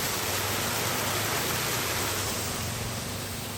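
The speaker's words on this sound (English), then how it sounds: "We have like a tiny waterfall over here." A tiny waterfall in a village on a Sunday morning rushes steadily as broadband white noise, constant and fairly close, with no voices over it.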